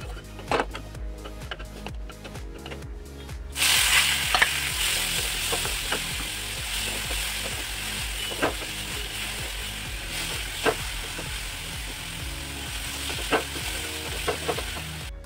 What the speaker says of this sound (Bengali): শাক ভাজা কিন্তু হয়ে গেছে